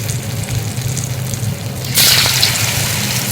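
Suzhiyam sweets dipped in batter drop into hot oil. A quiet low bubbling suddenly becomes a loud, bright sizzling hiss partway through, close and continuous to the end, with no voices.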